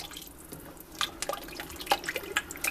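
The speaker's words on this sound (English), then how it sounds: "Then we're going to stir it up, mix it up really good." Taco soup being stirred in a pot, a stream of close, irregular liquid sloshes and splashes, with no voice.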